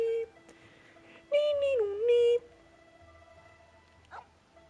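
A dog gives a few short whining yips and barks, close and fairly loud, against a quiet background with a faint low hum.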